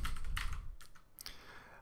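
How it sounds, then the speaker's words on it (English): Typing on a Cooler Master Storm Quickfire mechanical keyboard with Cherry MX Blue switches makes loud, close, clacky keystrokes in quick uneven clusters. Everything else is quiet. "This is the Cooler Master Storm Quickfire Mechanical Switch Keyboard with Cherry MX Blue switches."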